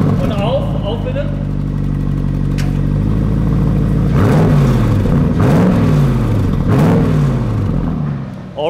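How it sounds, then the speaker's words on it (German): Inside a 2021 Porsche Cayenne GTS Coupé, the engine burbles and drones under load, with rising and falling revs in repeated swells around the middle before settling; the sound is loud and close. "Was man hier drinnen so hört, das ist dieses Blubbern und dieses Brummen unter Last."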